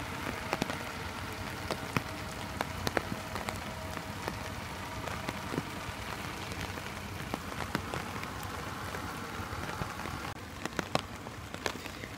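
Morning rain falls steadily on surfaces outdoors, a dense even patter with scattered louder drips throughout, with no voices.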